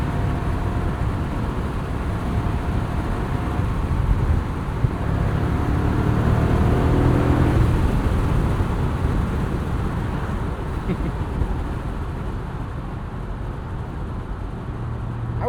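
A 2003 BMW Z8 Alpina V8 roadster cruises with a steady, moderately loud engine rumble under wind and road noise, swelling briefly around the middle before easing back, with no talk.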